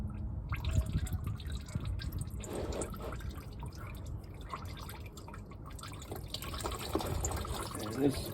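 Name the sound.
engine oil draining from Ford Fiesta into drain pan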